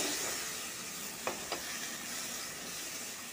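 Lentils being sautéed with spices and hog plums sizzle loudly and steadily in a pan, with two short sharp scrapes of stirring partway through.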